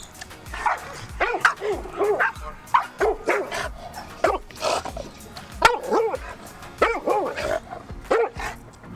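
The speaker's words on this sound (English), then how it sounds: "she just started barking at these other two dogs" A dog barks repeatedly in short, uneven bursts, fairly close, mixing deeper woofs with higher yips and a few whimpers.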